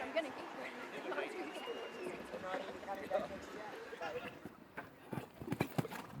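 Show jumping horse at a national championship galloping over a course of fences, hoofbeats thudding in an irregular rhythm at moderate distance, with a crowd murmuring and a commentator talking over them.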